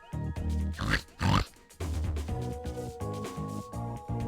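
A pig oinks in the video game Riddle Transfer, giving two short grunting calls over a bright, melodic game soundtrack that keeps playing afterward.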